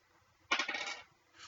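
Dice tumbling onto a tabletop during a Dungeons & Dragons 5th edition session, one short bright clattering roll that rattles for about half a second and then settles into quiet.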